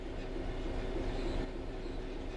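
A train in a rail simulator game rumbles steadily as the brakes are applied to bring it to a stop, a continuous low rolling drone with a faint tonal hum, no talk.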